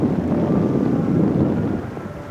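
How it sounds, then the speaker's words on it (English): Night wind in Egypt gusts steadily against the microphone, a low continuous rumble holding level before easing slightly at the end. "It's a bit windy"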